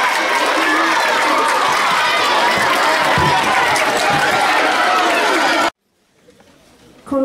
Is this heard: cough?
no